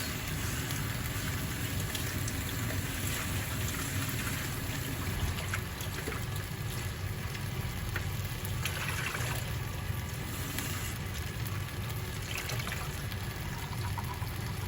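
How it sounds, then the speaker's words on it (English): Cherry tomatoes washed under running water at a kitchen tap: a steady, soft splashing and trickling continues throughout at a moderate distance, with no voices. "So if I wash the cherry tomatoes,"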